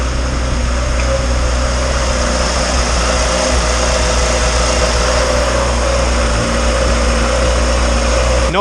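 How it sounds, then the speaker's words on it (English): Freshly installed turbocharged Honda engine idling smoothly and quietly on its first start, a steady even hum running unbroken and close throughout. "It is extremely quiet running engine. It sounds extremely smooth, so that is awesome."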